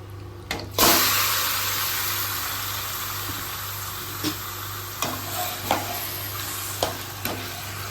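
Steady sizzling of marinated chicken frying in oil in a pan, with a sharp burst near the start and a few scraping clinks of a utensil stirring the pan.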